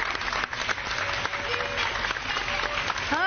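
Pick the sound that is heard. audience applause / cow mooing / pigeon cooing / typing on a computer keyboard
audience applause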